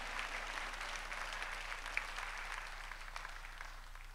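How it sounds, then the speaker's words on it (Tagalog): Church congregation applauding during a Sunday worship service, a faint, steady patter of many hands clapping heard from a distance over a low background hum, without pauses. "pumalakpak ka ng malakas at sabihin mo, thank you, Jesus"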